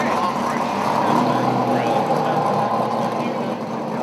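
Honda GX390 single-cylinder kart engine idling, a steady low mechanical drone running throughout with no breaks, fairly close, while someone talks over it.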